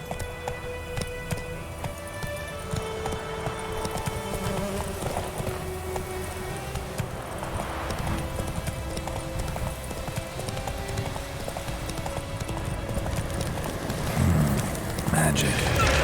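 A horse gallops in The Witcher 3 game, its hooves pounding a steady rapid clip-clop throughout, layered with ambient game sound and occasional voices.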